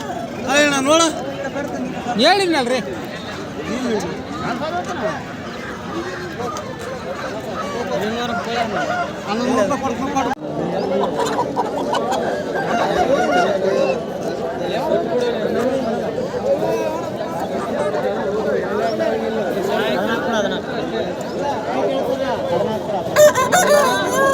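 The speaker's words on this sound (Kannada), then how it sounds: "ಎಷ್ಟೊಂದು ಕೋಳಿ ಎಷ್ಟೊಂದು" A crowd of chickens at a large poultry market clucks and squawks continuously, with crowing and honking bird calls mixed into busy close-up chatter, while people talk over the flock throughout.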